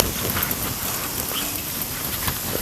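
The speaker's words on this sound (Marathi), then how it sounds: "बघा हे चांगलं तळून घ्यायचं खालीवर खालीवर सारखं करायचं" Onion bhaji fritters, Sangli-style kanda bhaji, deep-fry in hot oil with a dense, steady crackling sizzle and scattered pops, close and continuous without talk.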